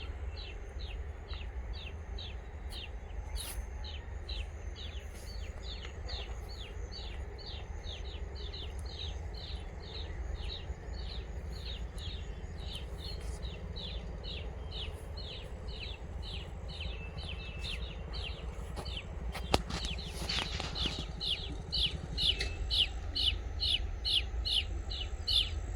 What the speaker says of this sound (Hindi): आवाज़ सुन रहे हैं, कितना अच्छा आवाज़ है छोटे छोटे पक्षियों का।